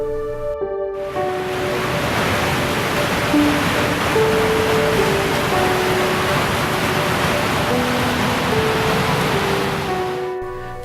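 Roaring water of Niagara Falls in winter, partly frozen, as a steady, dense rush that holds for the whole stretch, with soft sustained melodic tones drifting over it.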